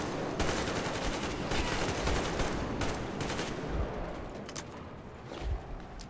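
Gunfire in the video game Metro Exodus, a dense, continuous wash of shots and noisy combat sound that stays fairly steady throughout, with no speech.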